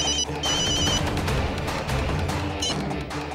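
A telephone ringing loudly with repeated electronic trills in short bursts, heard over a dense, rumbling background of music or noise.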